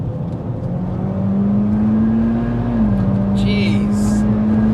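A 440 bhp Mitsubishi Evo X FQ-440 accelerates with a steady, loud engine drone whose pitch climbs, dips briefly at a gear change and rises again, heard from inside the car.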